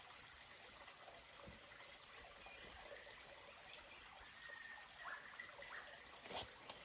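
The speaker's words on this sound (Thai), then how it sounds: "เสียงน้ำไหลตลอดเวลาเลย" Water trickles and burbles steadily in a stream, faint and continuous, with a couple of small splashes or clicks near the end.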